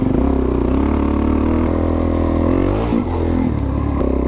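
A Yamaha Ténéré motorcycle rides off-road on a single track. Its engine drones loud and steady close by, with a brief dip near the end and some clatter over rough ground.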